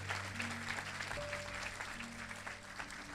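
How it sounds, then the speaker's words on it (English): Graduation audience applauding the senior class of 2026, a steady, dense patter of many hands at moderate distance, with sustained music tones underneath throughout. "Let's give them another round of applause."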